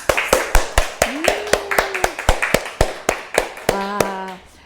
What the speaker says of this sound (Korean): 원장님들이 박수소리가 아주 제 귀에 아주 우렁차게 들렸습니다